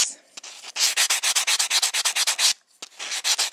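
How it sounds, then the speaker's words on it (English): A sanding block rubs in quick, regular back-and-forth strokes over Vintaj art metal to relief a design, each stroke a close, dry scratchy swipe, with a brief pause before the strokes resume. "So I'm using the vintage sanding block here,"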